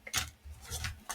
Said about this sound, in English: Okay, let's cut the deck.